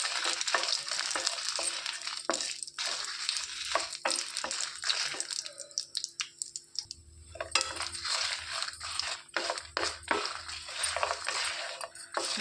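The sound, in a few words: dried red chillies frying in oil with mustard seeds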